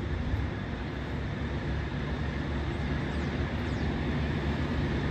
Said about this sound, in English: you can see the two trams, so they're going to meet in the middle.